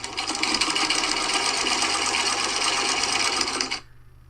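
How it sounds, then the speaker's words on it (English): A sewing machine whirs steadily at a constant buzz for almost four seconds, then cuts off abruptly into near silence. "It was the sewing machine."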